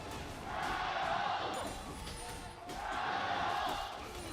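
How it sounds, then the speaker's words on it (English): Crowd cheering at the League of Legends Asian Games 2018 gold medal final, a dense roar of a large audience swelling in two waves and fading between, heard at a distance under commentary. "You can hear the audience cheering it because this is a very close game."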